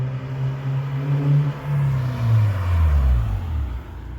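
A 5th gen Honda Prelude engine idles warm at operating temperature, a low steady rumble with slight wavering pitch, heard close and alone.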